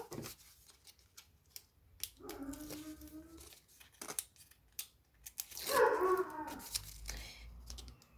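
A dog barks a few times nearby, the yips mixed with rustling paper and scissor-like snipping sounds.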